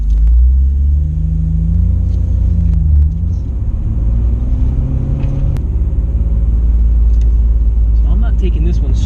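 Midnight Purple Nissan Skyline R34 GTR on the road: a loud, steady low engine rumble heard from inside the car, with shifts in engine note and a voice speaking over it.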